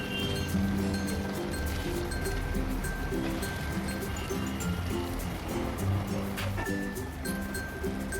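Ground spice paste thinned with a little water sizzling steadily in hot oil in a pan, a continuous close bubbling hiss with occasional clinks and a faint hum underneath.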